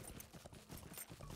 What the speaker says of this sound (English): well, the horse